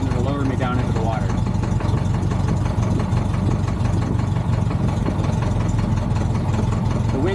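A seaplane's warmed-up engine idles steadily on a lake before takeoff, a continuous close, loud mechanical drone with no voices over it.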